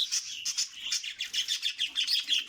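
A budgerigar chirps rapidly and continuously, bright warbling tweets in quick rhythmic pulses, close and clear with no voices.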